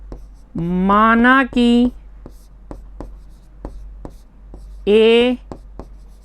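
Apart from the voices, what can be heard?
writing the solution on a board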